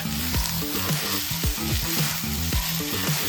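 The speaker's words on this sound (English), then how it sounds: "Stir-fry the onions and green onions for about a minute until fragrant." Onions and green onions stir-fry in an oiled pan over medium-high heat, giving a steady loud sizzle with a regular rhythm of clunking stirs and tossing against the pan.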